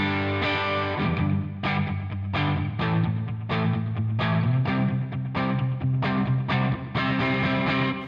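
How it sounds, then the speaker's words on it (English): Guitar played through a Chase Bliss Brothers AM pedal set to distortion, with heavy gain: loud, thick, saturated chords struck in a steady rhythm, each ringing into the next, played alone with no talking. "Then distortion adds quite a bit of gain."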